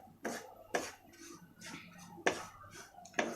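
A spoon scraping and knocking against a pan as semolina roasts over low heat for halwa, five sharp metallic strokes at an uneven pace, close and fairly quiet.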